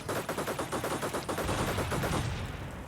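Rapid bursts of tank machine-gun fire in the war game Combat Mission Shock Force 2, with T-55 tanks firing. Evenly spaced rattling shots give way to a denser, rumbling fusillade, fairly faint and with no talk.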